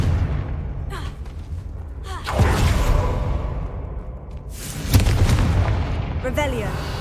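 In Hogwarts Legacy, a Confringo spell goes off as booming blasts with whooshing sweeps, loud and near, over a constant rumbling game background.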